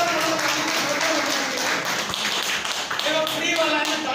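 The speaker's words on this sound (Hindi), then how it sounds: "जोरदार ताली आप लोगों के लिए" An audience applauds in a hall, with steady, continuous clapping that stays dense and even throughout and has a voice faintly mixed in.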